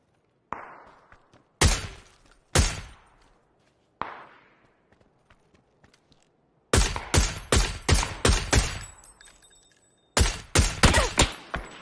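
Video game gunfire in a shooter match: single loud close shots with short decaying tails, then dense rapid bursts of automatic fire, sharp and dominant with no talk over them.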